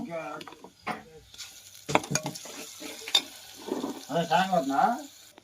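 Chicken curry masala with ground coconut paste is stirred and fried in a pan, with scraping, sizzling spoon strokes in irregular bursts, mixed with a person talking.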